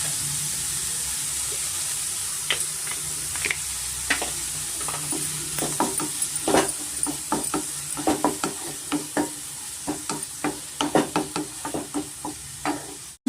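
Potatoes and onions fry in a hot pan for an aloo methi curry, a steady close sizzle broken by repeated knocks and scrapes of a spoon stirring, growing busier toward the end.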